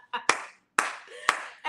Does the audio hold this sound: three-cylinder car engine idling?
no